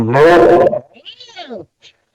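A voice imitating the hissing, feral noise of a small cat-like fairy creature, a short, breathy strained cry after a brief burst of talk, followed by a faint, higher trailing snarl.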